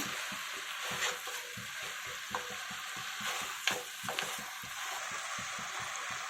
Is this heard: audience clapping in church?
no